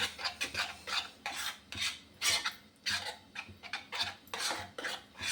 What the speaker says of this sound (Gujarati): સતત એને હલાવતા રહેવાનું છે કે માવો આપણો તળિયે ચોટી ન જાય